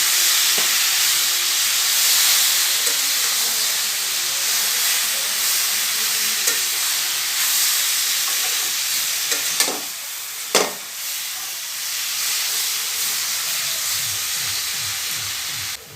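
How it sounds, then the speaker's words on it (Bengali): Mustard seeds and washed tamarind frying in mustard oil in a wok, a steady loud sizzle and hiss running throughout with a few sharp pops and stirring scrapes near the end. "কড়াই দিয়ে দিব সরিষার তেল, দিয়ে দিব একটু সর্ষে, ধুয়ে রাখা তেঁতুল,"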